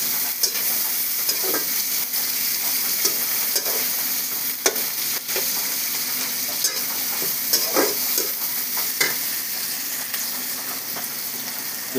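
Onions sizzling and frying in a pan in a home kitchen, a steady hiss with occasional soft clicks of stirring throughout, close and moderately loud.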